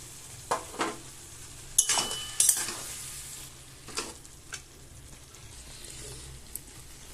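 Drumstick flowers cooking in a pan as cumin-mustard paste and rinse water go in: a quiet sizzle runs beneath several sharp bursts of spatula scraping and clinking against the pan, then gradually settles.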